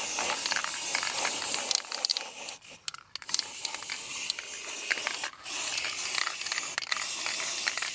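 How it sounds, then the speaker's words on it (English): Aerosol spray paint hisses onto metal gate hinges outdoors in hot weather, in several long close bursts with short pauses between them. "it was time to spray paint them to give them a better finish"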